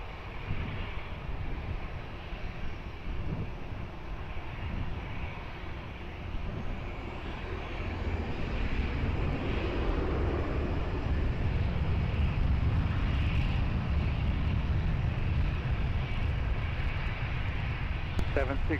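Airliner taking off from runway 20 at Lisbon Airport, its engine roar building broadband and steady, swelling louder midway and holding strong through the end.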